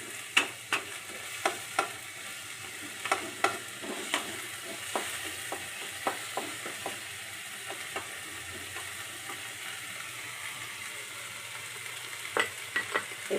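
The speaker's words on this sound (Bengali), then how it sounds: "ভালো করে একটু ভেজে নেব এটাকে" Curry leaves frying in hot oil in a pan for dahi vendi, a steady sizzle with a spatula scraping and tapping the pan at irregular intervals.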